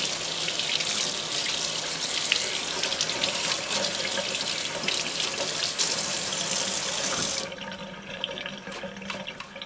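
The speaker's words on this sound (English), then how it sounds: "then I'm going to rinse it well, because I don't want to leave that Krud Kutter on the paint" Running tap water pours steadily over a vintage Singer 403A sewing machine's oil drip pan as it is rinsed, a close, constant splashing rush that suddenly softens as the flow is cut back near the end.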